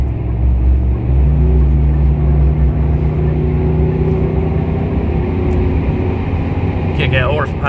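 A car engine drones loud and close, its pitch stepping up once as it revs and then holding a steady, rumbling tone, with a brief rattle near the end.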